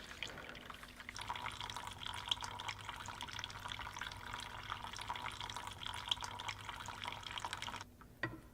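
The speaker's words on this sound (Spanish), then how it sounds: "con una resistencia muy grande la cantidad de agua que fluye es muy pequeña" Water flowing slowly through a small tube packed with paper, a steady soft trickling and dripping hiss lasting most of the clip before stopping near the end, faint and close.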